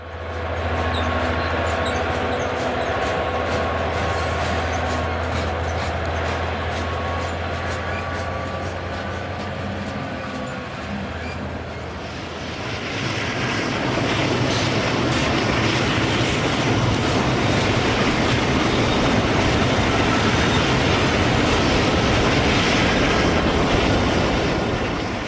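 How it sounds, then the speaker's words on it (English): A model railroad freight train, Mount Hood Railroad number 240 leading a mixed manifest through the town of Reveston, rolls along the track with a steady, continuous mechanical rumble and hum that grows slightly louder and noisier partway through. "Mount Hood Railroad number 240, a Jeep 7, leads a mixed manifest train through the town of Reveston"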